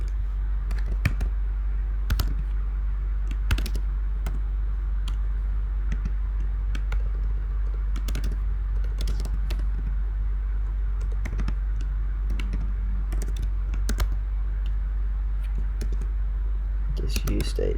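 Fingers type code on a Mac keyboard in irregular bursts of crisp clicks and sharper key taps, close to the microphone over a steady low hum.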